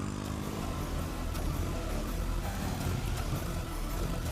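A motorbike engine runs steadily nearby as a couple rides off, a continuous low rumble at even loudness with no voices over it.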